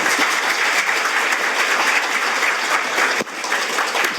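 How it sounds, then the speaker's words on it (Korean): An audience at a Korean emergency-medicine policy forum gives sustained applause after a speech, a steady, full wash of many hands clapping that briefly dips near the end before resuming. "멋진 말씀 전해주신 이주영 의원님께 다시 한번 큰 박수 부탁드립니다"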